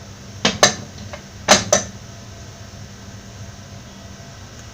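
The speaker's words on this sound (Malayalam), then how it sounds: "കുക്കറിൻ്റെ പ്രഷറൊക്കെ പോയിട്ടുണ്ട്. തുറന്ന് നോക്കാം." A pressure cooker is opened after cooking mutton for a Kerala-style mutton curry: a few sharp metallic clanks and knocks from the lid, close by, in two quick pairs, then quiet kitchen hiss.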